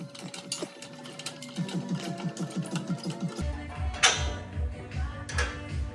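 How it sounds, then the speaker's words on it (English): A floor jack raises the lower control arm of a 2025 Toyota Land Cruiser during a lift install, producing a quick run of rhythmic mechanical clicks close by, followed by a low hum and a few sharp knocks. "Now to reinstall this sway link, we are going to have to jack up this lower control arm."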